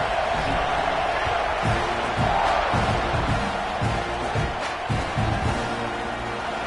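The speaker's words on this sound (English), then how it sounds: "They're set to kick it off, and this crowd now ready to get behind them" A college football stadium crowd roars steadily at kickoff of a Texas at Texas A&M game, a broad distant wash of cheering under a commentator's voice.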